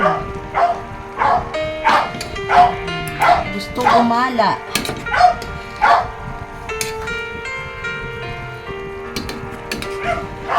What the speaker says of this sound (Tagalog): ingay na yung aming aso